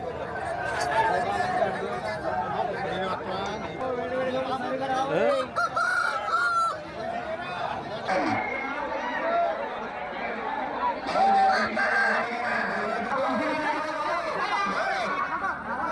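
Roosters crow and hens cluck again and again amid a busy crowd at a Sankranti cockfight venue in Bhimavaram, the calls rising over constant chatter and nearby voices talking.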